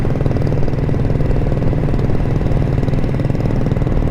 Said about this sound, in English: Ernie's bike's sounding really good.